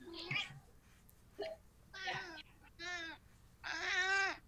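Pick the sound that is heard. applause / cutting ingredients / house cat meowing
house cat meowing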